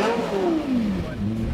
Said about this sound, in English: you got to hear this engine